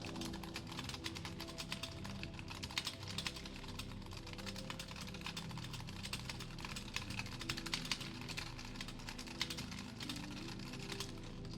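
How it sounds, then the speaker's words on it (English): Fast, continuous typing on a computer keyboard, close and clear, with dense overlapping key clicks throughout and no talking. "Let me see if I can type something"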